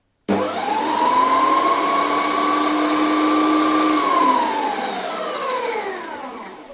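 A retro Sebo Duo dry carpet cleaning machine switches on with a sudden start and runs as a steady, loud whining motor hum, its pitch easing slightly downward near the end, with no talking.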